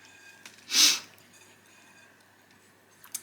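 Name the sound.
sniffing from a blocked nose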